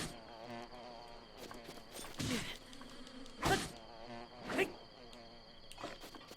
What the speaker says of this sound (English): the actual bees are an enemy that you attack